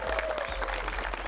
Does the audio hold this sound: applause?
yes